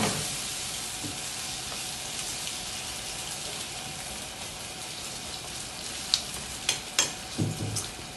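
A Basque tortilla fries in a pan with a steady, close sizzle and crackle, and a few sharp clinks and scrapes of stirring toward the end.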